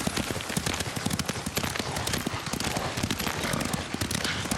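Horse hoofbeats from Ghost of Tsushima, a steady rapid clip-clop of a ridden horse at pace, loud and continuous with a rain-like rustle and no voices over it.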